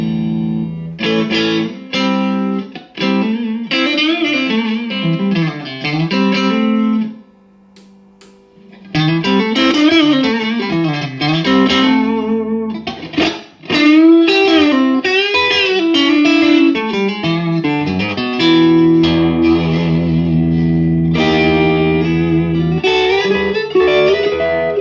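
An electric guitar plays through a Bad Cat Cub IV 15R amp with reverb, loud and distorted, with chords and single-note phrases, a brief pause near the middle, and sustained notes ringing out.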